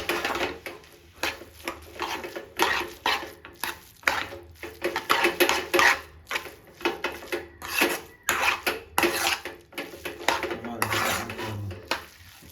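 Maggi noodles with masala and egg are stirred in a metal pan, giving repeated close scraping and clinking of a utensil against the pan in an uneven rhythm, with faint voices in the background.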